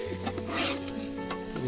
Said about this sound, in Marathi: हे चिकन हे आता फोडणीत चांगला भाजणार